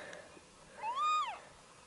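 A kitten hiding under a car gives a single clear, high rising-and-falling meow, fairly faint over a quiet outdoor background.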